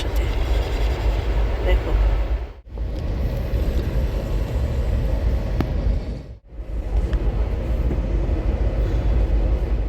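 A train pulls out of a station at night, a steady low rumble and clatter running throughout, briefly dipping twice, with a voice speaking over it.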